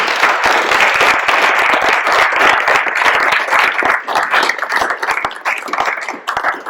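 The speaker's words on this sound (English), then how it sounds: "let's give George a round of applause" A church audience applauds at a rector's forum honoring Rev. George Morris, with dense, steady clapping that holds for several seconds and then thins slightly and turns more uneven toward the end.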